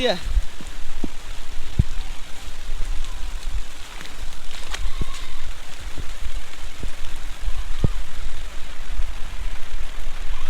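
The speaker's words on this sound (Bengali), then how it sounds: "এই যে দেখছেন প্রচুর পরিমাণে বৃষ্টি" Heavy rain pours down in a steady, loud hiss, with scattered sharper drop impacts close by throughout.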